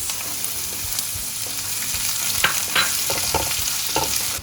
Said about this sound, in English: Okay, so now I'm going to just let the onions cook a little bit.